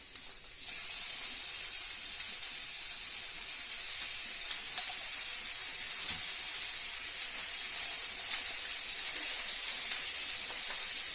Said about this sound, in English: a little bit of garlic in the pan here